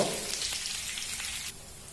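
Garlic paste frying in hot oil for an egg chicken tarka, giving a close, steady sizzling hiss with a few soft stirring scrapes, dropping slightly quieter near the end.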